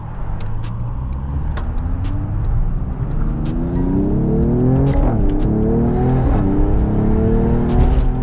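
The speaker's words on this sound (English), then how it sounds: "I hope y'all can hear the burbles." A 420+ hp AMG car drives through downtown Toronto, its exhaust note rising and falling with rumbling burbles and revving, loud and close throughout, with sharp crackles scattered over the engine drone.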